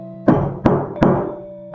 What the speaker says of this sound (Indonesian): Di luar jendela, terdengar suara ketukan pelan.